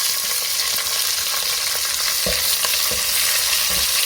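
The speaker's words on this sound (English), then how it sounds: "Let's fry it. We don't need to fry it too long, just heating up, and then I'm adding the onions and the green chilies." Onions and green chilies frying in hot oil in a pan for Hyderabadi mutton marag, a steady loud sizzle with occasional scraping stirs throughout, no voices.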